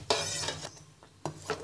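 Semolina halwa with milk and egg stirred in a pan as it thickens, in two bursts of close scraping and sizzling strokes separated by a short pause.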